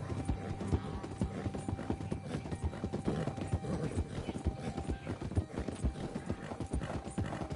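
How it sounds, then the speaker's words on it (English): Horse hooves clip-clopping at a steady trot in Red Dead Redemption 2, with a whinny in the mix, heard continuously over a busy game soundscape with no talk. "Even if I did whistle for one of my other horses, or if I whistled for Soul, there's no way that Dynamite should have been able to hear it and come all the way out here"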